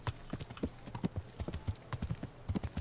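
Horse hooves galloping in the video game Kingdom Come: Deliverance, a quick, steady clip-clop of many close, crisp hoofbeats throughout with no talking.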